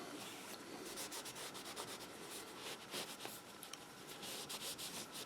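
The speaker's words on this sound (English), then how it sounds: "hold that knife again, and very lightly buff it" A rag lightly buffs a custom knife blade, producing a faint, steady rapid rubbing and swishing texture, soft and close, with no voices.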